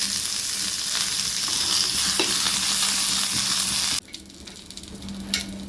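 Mustard seeds, chopped garlic, dried red chillies and curry leaves tempering in hot oil give a steady, close crackling sizzle for about four seconds, then the frying drops to a softer bubbling with a few stirring clinks.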